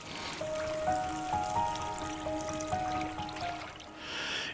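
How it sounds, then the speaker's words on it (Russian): A tomato and mushroom-broth sauce simmers in a pan, giving a steady soft bubbling and light trickling with faint tonal pings throughout, close and fairly quiet, with no voices. "И необходимо дать покипеть."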